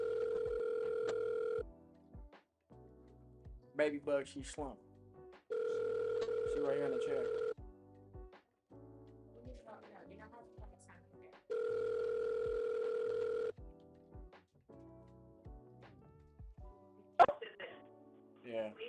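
Telephone line tones during a phone call: loud steady ringback-style tones repeating in long bursts, with a voice talking in the gaps between them.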